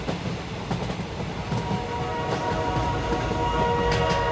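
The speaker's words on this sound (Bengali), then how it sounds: "ওই যে একটা ট্রেন আসছে," A passing train rumbles steadily along the rails with a rhythmic clatter, growing louder and nearer over several seconds.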